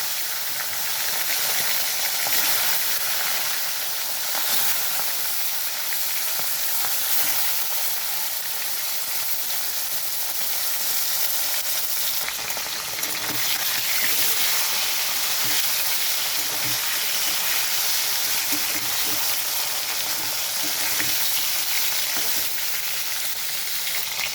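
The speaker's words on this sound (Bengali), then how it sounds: "তেলটা গরম হয়ে গেছে, তো মাছটা ছেড়ে দিচ্ছি ভাজার জন্য।" Steady, dense sizzling of fish frying in hot oil, a continuous bright crackle that holds evenly throughout with no voices.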